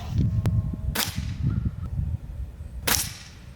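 Shots from a cheap Umarex MarkPoint break barrel air pistol firing 10.34 grain JSB pellets at targets about 8 yards away: two sharp, loud, close cracks about two seconds apart, with softer clicks and handling noise between them.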